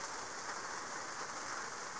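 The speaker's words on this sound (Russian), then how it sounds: "Ветра нет, солнца не было, ну, дождь." Steady rain falls on a yacht moored at a pier on a windless day, a dense continuous hiss without distinct drops or voices.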